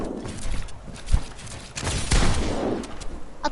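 Sniper rifle shots from a Fortnite match at the FNCS semifinals, Europe region: two sharp, loud cracks about a second apart stand out over a busy, noisy game mix.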